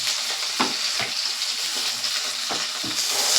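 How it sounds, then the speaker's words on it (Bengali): Onions and nigella seeds fry in hot oil in a pan for a snake gourd dish, a steady close sizzle broken by a few soft scraping stirs of a spatula. "পেঁয়াজ আর এই কালো জিরে দিয়ে ভালো করে একটু কষিয়ে নিতে হবে।"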